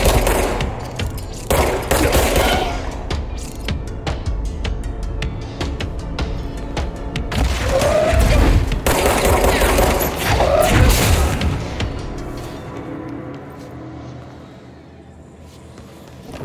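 Gunfire and grenade explosions in the video game Control ring out continuously and loudly, heavy booms and rapid shots layered together, easing off toward the end.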